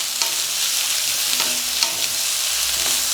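Onions and potatoes fry for potato masala in a pan, giving a loud, even sizzle and hiss throughout with a few soft spoon taps and stirring scrapes mixed in.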